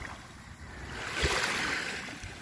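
Calm sea at a shore of small pebbles at an old port in Lobo, Batangas, giving a soft, steady wash of gentle surf with a little wind noise, swelling slightly midway.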